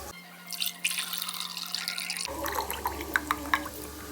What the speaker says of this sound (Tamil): வெயிட் பண்ணுங்க, நான் ஊற்றியே காட்டுறேன்.